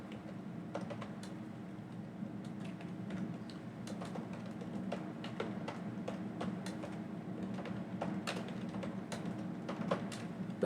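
Keys clatter on a computer keyboard while someone codes in JavaScript, a steady run of quick, light clicks at close range over a low room hum.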